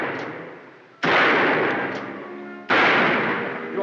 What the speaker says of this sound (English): I want the rest of the clans to know how Buckskin Frank drawed your picture with bullets